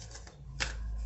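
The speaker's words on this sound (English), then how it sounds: "I'm shuffling the cards right now" Tarot cards being shuffled close by, a couple of soft riffling bursts with a sharper flutter near the end, quiet and without speech.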